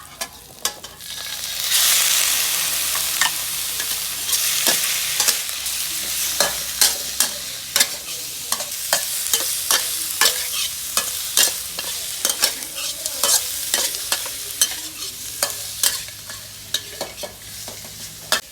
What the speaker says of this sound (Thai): อมดีแล้วหมึกกุ้งใส่ต่อเลยครับ